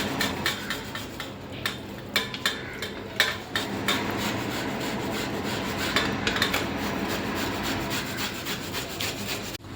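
Boiled, peeled sweet potatoes are rubbed across a grater, giving a steady scraping rasp with rhythmic strokes, close and fairly loud, with faint clinks of kitchen utensils and no talk.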